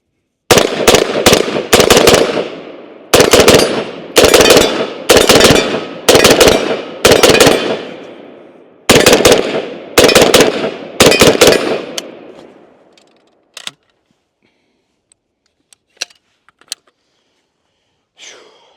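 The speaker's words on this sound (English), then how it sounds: "Let's take our last few shots with it." A CMMG BR47 rifle fires a string of loud, close gunshots in quick bursts of two to four over about twelve seconds, each crack trailing off, followed by a few scattered faint clicks and knocks.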